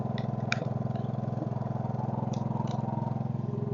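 A Case 224 garden tractor engine runs a homemade wood splitter, a steady rhythmic idle-like thrum with a regular pulsing beat and faint clicks, moderately quiet and alone.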